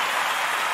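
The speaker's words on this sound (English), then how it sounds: "give Brother Hot Tim a round of applause" A brief wash of applause from an audience at an online community gathering, dense and even, without voices.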